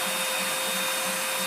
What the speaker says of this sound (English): Okay, keep vacuuming.